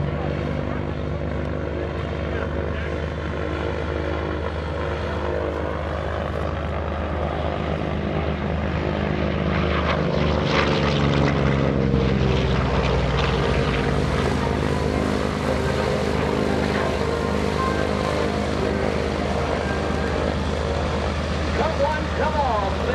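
A FG-1D Corsair propeller plane roars past at an airshow, a loud sustained engine drone that swells and shifts in pitch as it passes overhead, with an announcer talking over it.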